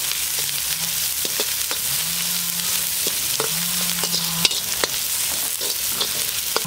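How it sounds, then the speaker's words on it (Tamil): Onions and green chillies fry in a pan for mutton kuzhambu, giving a steady, dense sizzle throughout, with a few faint clicks of stirring over the top. "இப்போ வெங்காயத்தை சேர்த்துக்கலாம் நான் வெங்காயம் ஒரு மூணு பச்சை மிளகாய் அளவுக்கு சேர்த்துக்கலாம்"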